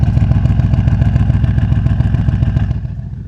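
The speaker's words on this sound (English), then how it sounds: "And you can probably hear that exhaust." A Bentley's exhaust burbles loudly and close with a rapid, even pulsing throb, then fades slightly near the end; no speech.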